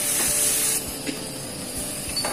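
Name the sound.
sautéing tomatoes and spices in a pan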